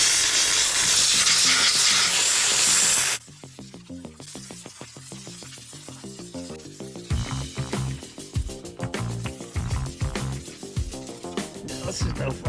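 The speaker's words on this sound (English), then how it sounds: "let's see if we can steam clean this thing" A steam cleaner blasting a Craftsman PYT9000 mower deck: a loud, close hiss for about three seconds, then rapid rattling, sputtering bursts as the jet hits the deck.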